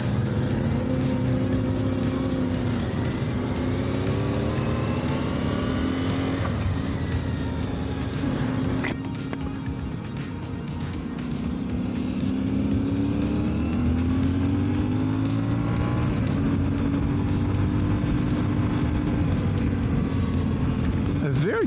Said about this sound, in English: I've heard great things about this 450 engine from CFMOTO.